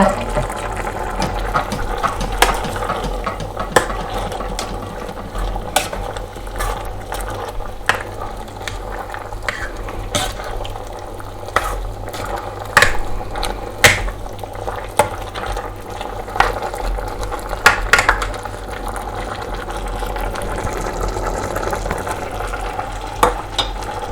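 A pot of Thai bamboo shoot soup with yanang leaves bubbles and simmers steadily, with scattered pops, clinks and stirring sounds over a constant low rumble.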